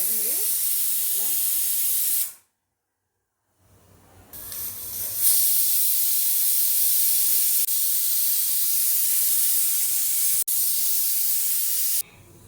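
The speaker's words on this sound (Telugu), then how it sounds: "ఒక 4 విజిల్ వచ్చే వరకు పెట్టేయండి మూత" A pressure cooker of mutton curry on a stove lets off loud, sustained whistles of hissing steam that cut off sharply into a brief silence, then resume with a steady hiss for several seconds.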